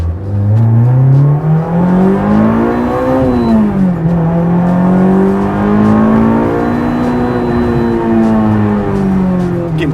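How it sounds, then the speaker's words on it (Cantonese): A J's Racing Honda S2000 with a swapped four-cylinder engine revs hard at high rpm on the Tai Mo Shan hill road. Its loud, close, sustained wail climbs, dips briefly and climbs again, with no talking. "真係踩上高轉咧，根本就係一個4盤賽車嘅聲嚟嘅"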